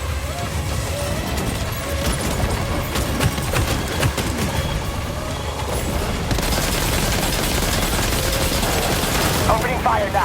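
Gunfire in the video game Death Stranding 2 during a fight with a giant ghost mech, rapid bursts of shots mixed with mechanical clanks and booms, loud and continuous under a game soundtrack.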